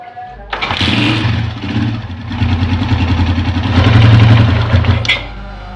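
A Honda CG 125 motorcycle with a cam pin oil leak and vibration problem is kick-started and runs loudly, a steady close idle with a rhythmic chug that swells briefly before settling.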